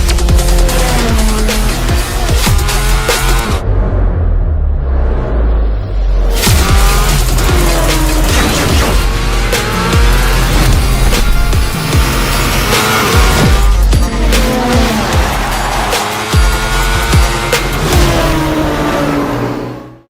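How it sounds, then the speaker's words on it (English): Loud, dense engine roar with revving, tire squeal and skid-like sounds under a thick music bed, running continuously for about twenty seconds, from an advert for the 2025 TVS Apache RTR 204V motorcycle. "Introducing the 2025 TVS Apache RTR 204V"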